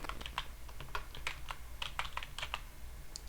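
Fingers typing SQL code on a computer keyboard, a quick irregular run of close, crisp key clicks over a few seconds with no speech.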